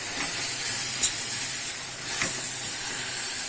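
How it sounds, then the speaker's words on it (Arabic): Milk poured onto hot toasted flour in a pan for a large batch of béchamel, giving a steady, moderately loud sizzling hiss with a couple of brief splashy spikes. "بدا يتحمص ابدا احط اللبن"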